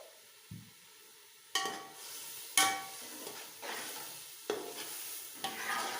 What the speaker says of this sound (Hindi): अभी 5 मिनट जो है इसको अच्छी तरह भून लेते हैं